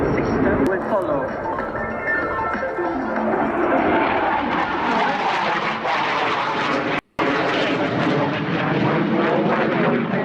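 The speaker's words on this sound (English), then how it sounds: "Here comes a roll under turn, which we can appreciate the high roll rate of the Tornado" A Panavia Tornado jet rolls during an airshow display, its loud, continuous engine roar shifting in pitch as it passes, with an announcer's voice heard over it and a brief dropout near the end.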